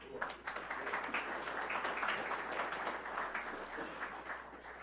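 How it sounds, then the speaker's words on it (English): Audience applause for a panel at an Army installations conference, a faint, distant, steady patter of many hands clapping across the whole stretch. "Let's have a round of applause for our talented panel."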